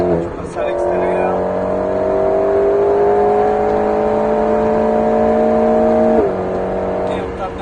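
An Alpine A110S laps the Alès racing circuit, its engine droning loud and close at high revs, then dropping sharply as the driver shifts or lifts near the end.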